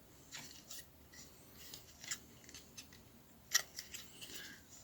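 Plastic Transformers Earthrise Starscream Voyager Class toy being transformed by hand, heard as quiet scattered clicks, scrapes and rubbing of plastic parts, one sharper snap near the middle, with no talking.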